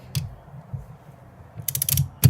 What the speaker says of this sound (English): I'm going to use a longer extension here so my torque wrench can get a little farther back